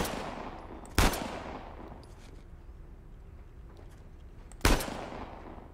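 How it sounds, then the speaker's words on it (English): Two sharp, loud gunshots in the video game Uncharted: The Lost Legacy, set in the Western Ghats, spaced several seconds apart, each ringing out and decaying over a quiet background. "Ik heb hem al 4 keer in zijn gezicht geschoten."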